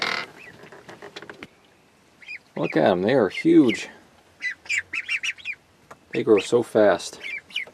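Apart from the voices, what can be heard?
ducks quacking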